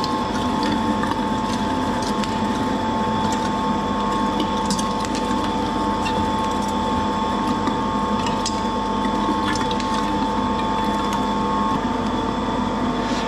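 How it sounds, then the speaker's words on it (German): Kitchen machine meat grinder mincing meat through a three-millimetre plate for Fleischkäse, a steady loud mechanical whir with rattling, ratchet-like gear noise running continuously without pause. "wäre jetzt mit dem Fleischwolf durch die Dreierscheibe zweimal durchwolfen"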